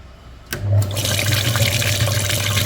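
Coolant flushing machine pushing water and cleaning chemicals through an Acura MDX cooling system and clogged heater core: a rushing water flow starts abruptly and then runs steady over a low pump hum.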